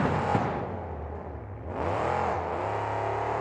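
The Tonka monster truck, driven by Phil Butler, roars at a 2003 monster truck event in New Orleans, its engine revving loud and close, dipping briefly, then climbing again in a sustained, whining rev.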